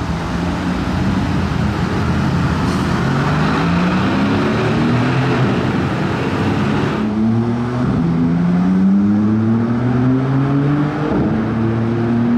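A Maserati MC20 Cielo sports car drives past loudly and close by, its engine revving and rising in pitch through several gear changes, with one car following another amid steady traffic noise.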